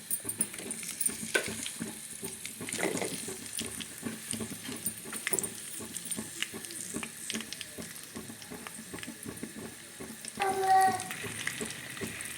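Capsicum with salt frying in a pan after cumin seeds go in, a soft continuous sizzle with crackles and the occasional scrape of stirring, close and fairly quiet.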